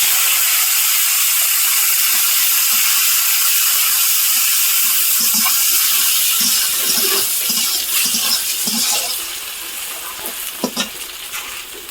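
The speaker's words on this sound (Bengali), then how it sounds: "এবার আমি চিংড়িটা ভেজে নেব" Prawns fry in a pan on a clay stove with a loud, steady hiss and crackle, broken later by scraping stirs and clinks as the sizzle gradually eases.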